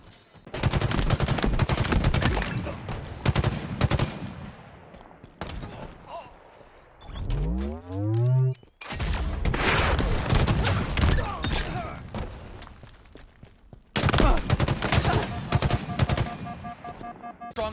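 Gunfire in a Halo match at a competitive esports tournament, loud rapid bursts of automatic fire and shots, with a rising whoosh and impacts between volleys and faint voices underneath.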